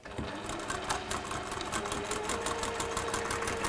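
A sewing machine stitches a quarter-inch seam down both sides of a piece of fabric, running as a steady, rapid mechanical chatter close by. No talking over it.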